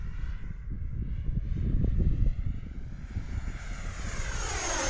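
An F-14 fighter jet makes a half-throttle pass, a loud, broad engine roar that swells to a peak and then fades as it moves past, with no voices.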